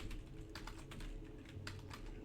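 Keys clatter on a computer keyboard while C# code is entered, a close, quick, uneven run of clicks with brief pauses over a low steady hum.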